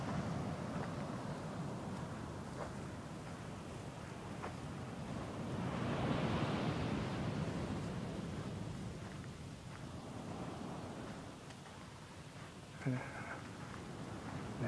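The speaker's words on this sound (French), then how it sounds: "La rive océanique." Ocean waves wash steadily onto the shore in a continuous, moderately faint surf roar with gentle swells, carrying no speech.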